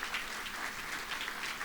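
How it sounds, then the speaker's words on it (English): A short burst of audience applause at a retirement event honoring the Board of Trustees, continuous moderate clapping from a seated crowd with no speech. "please give them a round of applause"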